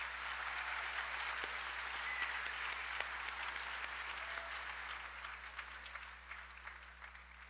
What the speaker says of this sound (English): please give a round of applause to the Westport High School students who performed in their jazz combo